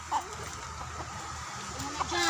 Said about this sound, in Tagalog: Pakainin na yung mga alagang manok.